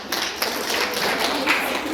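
An audience at a school Menstrual Hygiene Day event claps in a dense, continuous patter that stays steady for about two seconds. The applause is close and fairly loud, with no voices over it.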